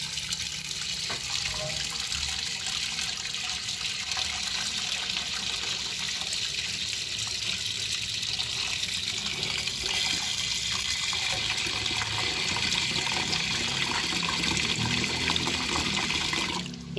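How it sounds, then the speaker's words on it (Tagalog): Water pours steadily into a cooking pot holding ginger for boiling, a continuous splashing gush that holds throughout and then stops abruptly at the end. "Bahala na kayo kung gaano karaming tubig yung ilalagay nyo."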